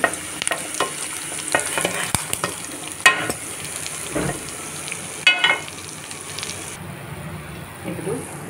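Peanuts frying and being stirred in a pan for gongura chutney, with a steady sizzling hiss broken by scraping strokes and sharp clicks of the spoon against the pan.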